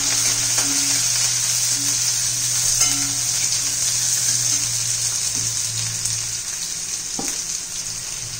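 Long-sliced onion fries in a pan for veg Schezwan fried rice, a loud, continuous hissing sizzle with faint occasional stirring throughout.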